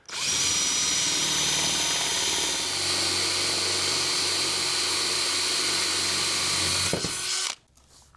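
A power drill boring out a larger bolt hole in a Jeep seat-delete platform, running loud and steady for about seven seconds with a slight pitch shift partway, then stopping abruptly.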